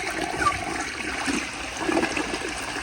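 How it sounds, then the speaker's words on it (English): A 2005 elongated Vitra front-flush toilet flushes in a steady rushing wash of water that swirls and gurgles for the full few seconds, close and fairly loud, with no talking. "So here is another flush."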